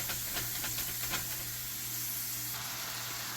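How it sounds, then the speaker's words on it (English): Ground beef steams in a pan, a constant loud broadband hiss with a faint sizzling crackle early on, close and steady from start to finish with no voices. "As right now it's really steaming, it's not frying"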